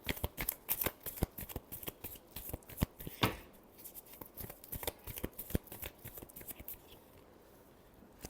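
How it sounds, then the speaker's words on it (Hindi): Tarot cards being shuffled by hand, a run of quick riffling flutters and soft slaps that repeat irregularly, close and fairly quiet, with no talking over them. "Last shuffle."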